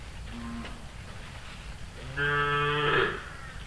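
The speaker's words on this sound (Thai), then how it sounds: "เรียกหากัน แล้ววัว หลงอยู่ในป่าขลังยังมาไม่หมด" Cattle left behind in a forest call to one another: a brief distant moo, then a long, loud, close bellow with rising harmonics over steady outdoor background noise.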